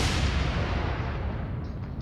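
Warship guns firing in the Atlantic Fleet naval game during the Battle of the River Plate, a single heavy booming blast that rumbles and slowly fades.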